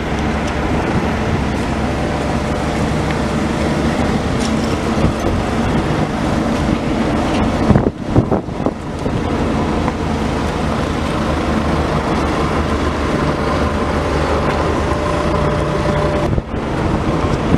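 New Holland 492 haybine running at an equipment sale, a loud, steady mechanical drone and rattle that carries on without a break, with a brief clunk midway.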